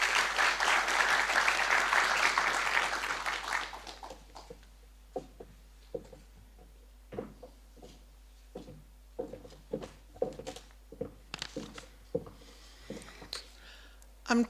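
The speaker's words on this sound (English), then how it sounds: "Ladies and gentlemen, please, a warm round of applause." Audience at a charity cycle tour media launch applauding, a dense burst of clapping for about four seconds that thins to scattered individual claps.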